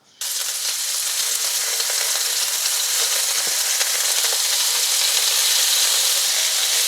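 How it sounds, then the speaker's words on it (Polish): Steady, loud sizzling of meat dropped into oil in a smoking-hot pan, starting abruptly and continuing as a dense crackling hiss with no talk. "dodaję olej, wrzucam mięcho"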